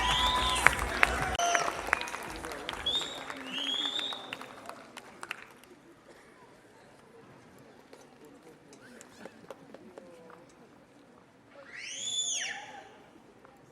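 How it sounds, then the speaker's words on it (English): Applause from a pageant audience at the Miss Meghalaya 2024 show: a burst of clapping over the first few seconds, mixed with voices, then fading to a quiet hall with faint murmurs. "can you please have a big round of applause"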